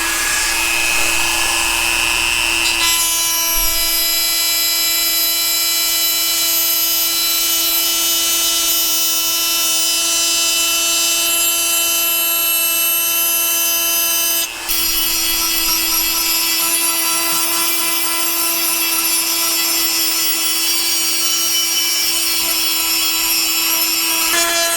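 A Caterpillar D2 track bushing has grease grooves machined into it, giving a steady, loud metal-cutting whine with bright tonal harmonics that runs continuously for the whole stretch, with one brief break in the middle.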